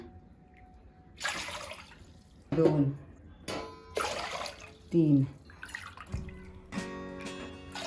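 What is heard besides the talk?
pouring water into millet flour batter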